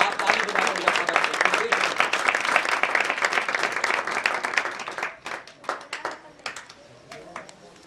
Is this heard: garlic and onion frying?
no